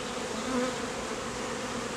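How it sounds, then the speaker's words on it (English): Honeybees buzzing during a swarm rescue as they are moved into a hive, a dense continuous drone of many insects close by, steady and fairly loud with no voices. "Get the rest of these bees in here."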